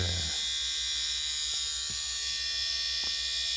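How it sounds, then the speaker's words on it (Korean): A label printer running as it prints a label, a continuous even electric whirring buzz with a few faint clicks, steady and close throughout. "인쇄를 해보도록 하겠습니다"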